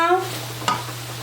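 Hard carrot pieces dropped into a hot frying pan of vegetables with oil, a soft steady sizzle with a brief sharp clatter and stir near the middle.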